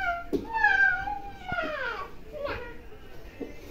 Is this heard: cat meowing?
yes